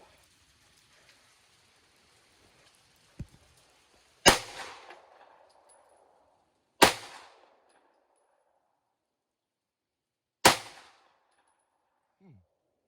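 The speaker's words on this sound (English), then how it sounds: "let's shoot these last couple shots that's in the target" Three loud, sharp shots from a Taurus G3C pistol fired at a target on a range, spaced a few seconds apart, each with a short echoing tail, after a quieter click.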